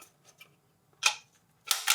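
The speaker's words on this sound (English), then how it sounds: "I am gonna disassemble the mag." Two sharp plastic snaps and clicks come from a Magpul magazine being taken apart, close and fairly quiet, with a faint low hum underneath and soft ticks between the louder clicks.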